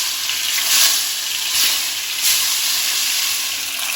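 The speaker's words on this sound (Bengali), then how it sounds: "এবার আমি মাছগুলো ভেজে নেব" Kalbaush fish pieces frying in hot mustard oil in a pan, a loud, steady close-up sizzle with gentle swelling bursts of spattering, no talk.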